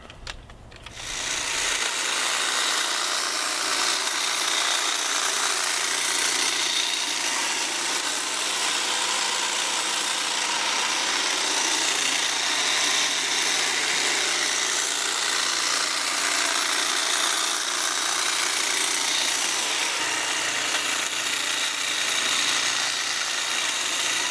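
A Milwaukee Quik-Lok hedge trimmer attachment on an extension pole trims tall bushes, giving a loud, steady motor buzz that starts after a moment and runs unbroken to the end, with no talking.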